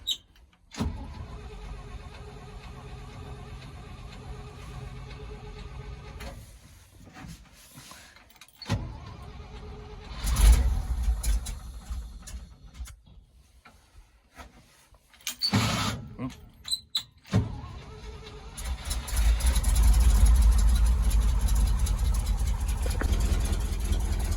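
An old red grain truck in need of a tune-up cranks and starts, then settles into a rough mid-pitched idle with revving surges, heard close up under intermittent talk.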